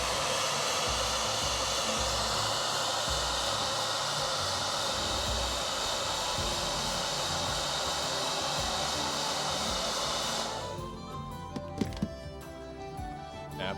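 Airbrush hissing steadily and loudly while paint is sprayed onto a Warhammer 40k Sons of Horus Leviathan Siege Dreadnought model, the broadband spray running continuously for about ten seconds, then cutting off to leave quiet clicks and handling noises.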